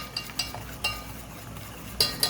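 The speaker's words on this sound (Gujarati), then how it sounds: "બરાબર હલાવીશું" A spoon scrapes and clinks against a bowl while khaman batter with fruit salt is stirred, giving a few sharp taps over a soft steady swishing, close and alone without talk.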